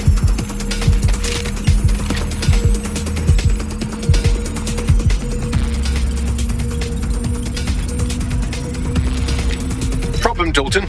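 In the video game Watch Dogs: Legion, a phone rings with a mechanical rattling trill, repeated bursts over a steady electronic hum and low rumbling game ambience, ending abruptly.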